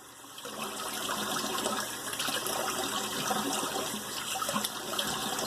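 Steady cold water pours continuously from a tap for rinsing, a broad splashing rush that holds at an even level for several seconds with no talking.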